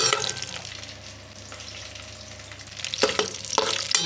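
Dried red chillies and curry leaves crackle and sizzle in hot oil as a Telangana-style tempering, a steady close frying hiss with louder bursts of spitting toward the end, no voices.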